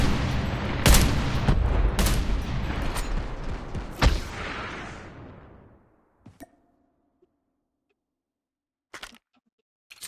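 Gunfire in a Call of Duty match, a few sharp loud shots and booms over battle noise that fades out, followed by near silence broken by a couple of faint distant shots.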